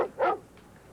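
A dog barks twice in a short animated film, two sharp close yaps in quick succession, the second louder, with no talk.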